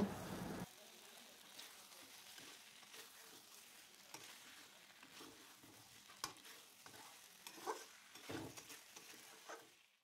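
Fried pointed gourd and potato pieces stirred into a spice masala in a pan, giving soft frying crackle and repeated scraping stirs with a brief louder burst at the start.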